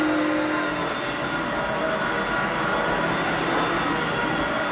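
A Kenmore bagless canister vacuum cleaner runs continuously at close range, giving a loud, even roar with steady whining tones and no talk over it.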